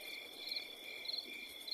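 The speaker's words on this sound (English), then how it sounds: "only the crickets answered him" Crickets chirp at night in a steady, continuous high trill that stays faint and even throughout, with no voices.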